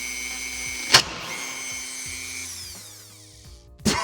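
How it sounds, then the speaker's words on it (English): A power drill boring a 1-inch hole, heard up close as a loud high whine that starts with a sharp burst, holds steady, then winds down before another sudden start near the end; no one speaks. "I'm gonna change out to this bit. This is like a massive, like 1-inch hole."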